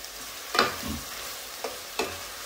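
Onion fries in a pan for a meat and liver curry, a soft steady sizzle broken by a few sharp scraping stirs, close and alone without any voices.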